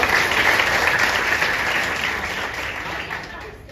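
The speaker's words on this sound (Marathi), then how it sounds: "वाह वाह, टाळ्या होत्या" Audience at a Marathi book launch event applauding, a dense burst of clapping that is loud at first and then slowly thins and fades, with no voices.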